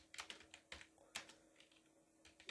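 Fingers tap out a short phrase on a computer keyboard, a quick uneven run of soft, close keystrokes against a quiet room.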